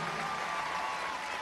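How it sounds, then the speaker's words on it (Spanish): Audience applause for the minister of agriculture at a public event where cooks are incorporated as employees, a steady, dense wash of clapping at moderate distance with faint crowd murmur. "erroterán, ministro de Agricultura y Tierra, vamos a darle un aplauso, hombre humilde, de grandes conocimientos"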